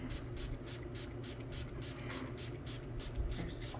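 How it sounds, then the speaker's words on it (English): Rubbing alcohol is spritzed from a spray bottle onto soap in a rapid, even series of short hissing bursts, about a dozen close puffs, faint and alone. "with the rubbing alcohol, get some good spritz in here"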